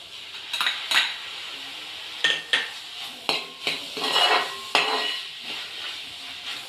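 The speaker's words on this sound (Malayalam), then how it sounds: "നന്നായി ഇളക്കി കൊടുക്കാം" Chopped tomatoes get stirred into a prawn roast in a pan: a series of sharp metallic clanks and scrapes of a spoon against the pan, spaced irregularly over a faint low sizzle.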